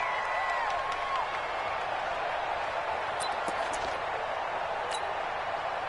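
Home stadium crowd in a PS4 football video game, a dense, steady roar with scattered cheers and whistles, running continuously under a commentator's voice.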